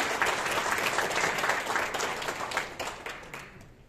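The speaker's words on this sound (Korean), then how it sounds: "큰 박수 부탁드립니다." Audience at a Gangnam district ceremony applauding to welcome the district mayor: brisk, crackling clapping from many hands, steady throughout and tapering slightly at the end.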